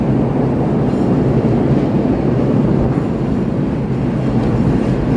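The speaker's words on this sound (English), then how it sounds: "you hear the train pulling into Clark and Lake here." A CTA L elevated train pulls into Clark and Lake station in the Chicago Loop, heard from the street level beneath the tracks as a loud, continuous rumble of wheels and cars that holds steady throughout without a break.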